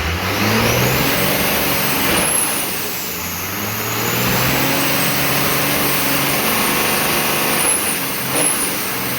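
A 12-valve truck engine on first start runs up to about 3,000 RPM, a loud steady rumbling roar that dips briefly and then holds high, with a few faint high squeals over the top.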